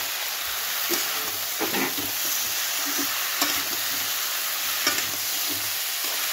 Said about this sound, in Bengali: এরকম করে আমি কষিয়ে নেব